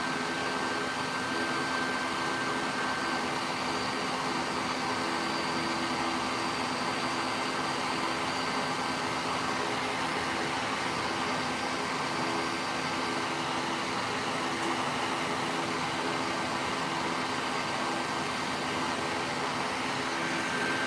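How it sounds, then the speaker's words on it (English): A heat gun blows hot air onto a dented car fender, producing a loud, steady, unbroken whoosh and whine close to the microphone for the whole stretch, with no talking. "Now this is just a heat gun."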